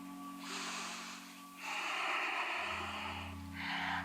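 Deep breaths close to the microphone during a yoga core practice: a long breathy inhale, a pause, then a fuller, longer breath followed by a shorter one, with a steady low hum underneath.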